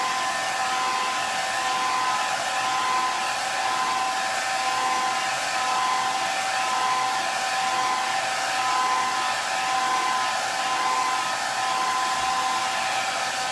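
A hair dryer drying red paint on an old wooden rolling pin blows steadily and loudly for the whole stretch, a constant whirring rush of air with a faint motor whine and no talking.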